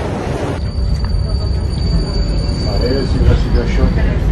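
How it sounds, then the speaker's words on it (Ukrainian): A new tram rolls past on a city street: a loud, steady rumble of wheels on rails with a high squeal running through it. It is close and continuous, and traffic noise sits underneath. "Якийсь новий трамвай. Він туди їде."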